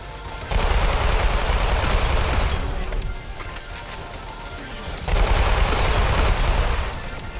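A player's weapon in Roblox Weird Gun Game firing long sustained automatic bursts, loud and close, with a brief quieter gap between two heavy stretches.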